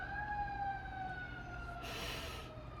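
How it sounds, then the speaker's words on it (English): Fire engine sirens wail past at a moderate distance, steady tones sliding slowly over a constant low traffic rumble, with a brief brighter burst of noise near the end. "There's fire engines, and it's scaring my cat."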